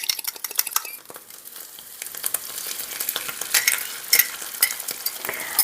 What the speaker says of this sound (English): let's add our egg in